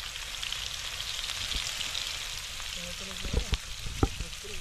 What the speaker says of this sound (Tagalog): Gisa-gisa lang, gisa-gisa.